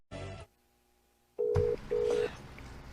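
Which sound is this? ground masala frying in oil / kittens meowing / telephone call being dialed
telephone call being dialed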